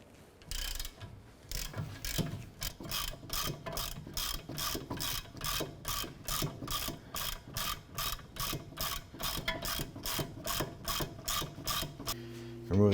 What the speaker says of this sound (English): Using our 17mm socket and our 1/2" drive ratchet, let's go ahead and loosen these bolts.